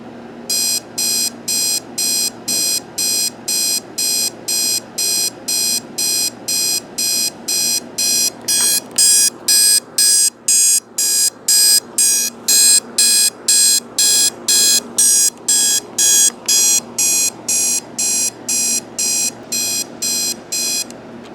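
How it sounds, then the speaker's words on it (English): A Sunbeam 887-17 digital alarm clock sounds its alarm: a loud, steady train of rapid electronic beeps repeating in even bursts for about twenty seconds, close and alone with no talking. "Okay, so I'm going to run the alarm."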